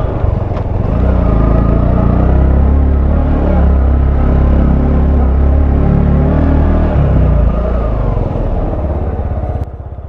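A motorcycle engine held in second gear on a mountain route near Joshimath, a steady loud low rumble running continuously with no talk.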